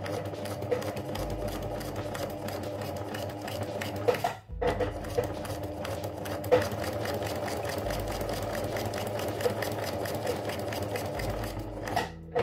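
A sewing machine runs continuously, stitching a straight seam, its steady mechanical hum and rapid needle clatter close and even, with one short pause partway through.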